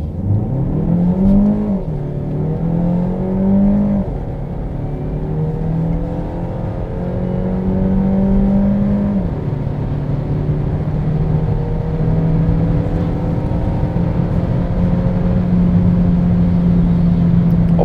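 Renault Megane Sedan 1.3 TCe 140 with EDC gearbox accelerating hard in sport mode, engine note climbing steadily through several automatic upshifts, each marked by a brief dip in pitch, loud and close from inside the cabin.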